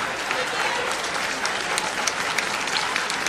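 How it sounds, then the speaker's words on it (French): A crowd applauds steadily, dense clapping from many hands sustained throughout at a close, fairly loud level, at a church choir performance. "Applaudissez une deuxième fois"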